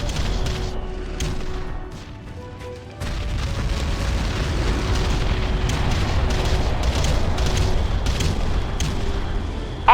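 Artillery bombardment explodes in the real-time strategy game Ground Control, a continuous rumbling barrage of deep booms and bursts with scattered sharper pops, loud and dense throughout with faint game tones underneath.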